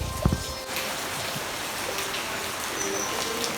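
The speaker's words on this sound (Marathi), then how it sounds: "पाहू शकता पावसाला रिमझिम सुरुवात झाली आहे" Light drizzle beginning over a Konkan village backyard, a faint, even patter and hiss of rain that runs steadily throughout, with a brief knock near the start.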